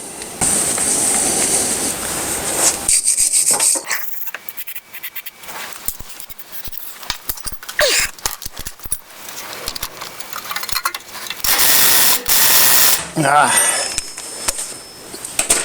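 Bolts on the front wheel hub of a Nissan Qashqai J10 are worked loose with a ratchet during a wheel bearing replacement, giving close, loud metallic clicks, scrapes and clinks in bursts with brief pauses.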